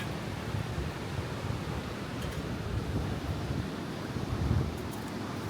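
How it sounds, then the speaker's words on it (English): Strong, steady wind buffets the microphone on an exposed Vietnamese beachside coast the day after a typhoon, a constant rushing roar with no talking. "there's just no protection from the wind out here on the coast."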